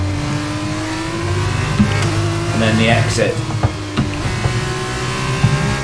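F1 race car engine in a racing video game, revving and shifting through a chicane and its exit, a steady buzzing drone with pitch dips and rises, while someone talks over it.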